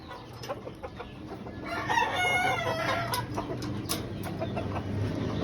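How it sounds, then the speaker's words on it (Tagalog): Chickens cluck steadily in a poultry farm house after monsoon rains, with a rooster crowing clearly partway through over the busy flock chatter. "Silipin natin ang mga manok."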